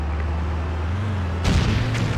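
In the Stuntman stunt-driving game on PlayStation 2, a sudden loud explosion bursts in over a steady engine drone, ending the stretch of rumble with a broad, noisy blast.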